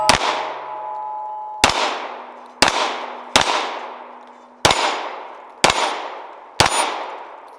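Seven pistol shots from a Sig P320 ring out at an outdoor range, spaced about a second apart, each a sharp crack with a ringing metallic steel-target clang that decays before the next.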